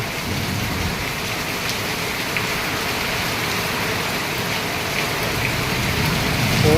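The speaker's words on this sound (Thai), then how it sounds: "ฝนตกหนักเลยพี่น้องฝนตกหนักเลย" Heavy rain pours down steadily in strong wind, a dense, loud and unbroken roar of drops on surfaces that swells slightly toward the end.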